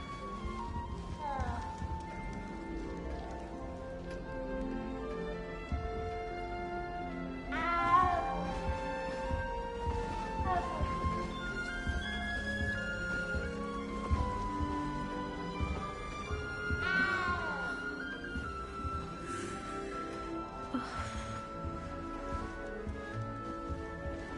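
A cat in the video game Hogwarts Legacy meows several times in drawn-out, rising and falling cries, heard over continuous orchestral game music.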